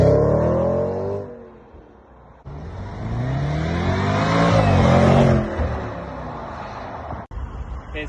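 A Range Rover Sport SVR's 5-litre supercharged V8 revs loudly and close, its pitch climbing, dipping and climbing again in a deep, throaty roar.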